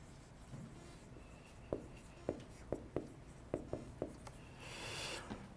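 A pen writes equations by hand on paper, a faint series of about ten short scratchy strokes and taps spaced irregularly against quiet room tone.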